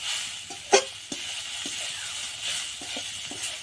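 A spatula stirs vegetable momo filling with coriander in a pan. A low, steady sizzle runs beneath several distinct scraping knocks and taps close by.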